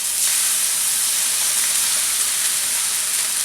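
Sauce poured into a hot pan of chilaquiles gives a steady, bright hissing sizzle, loud and even for several seconds with no talking over it.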